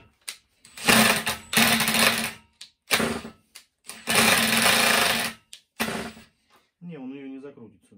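A Makita DTD153 impact driver drives a screw into metal in loud bursts of rapid hammering, roughly four separate runs over several seconds, close to the listener, each stopping sharply.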